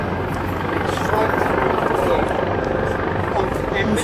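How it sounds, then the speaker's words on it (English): A helicopter roars steadily and loudly throughout, its dense rotor and engine noise filling a car chase scene in the game GORN. "It's another chopper."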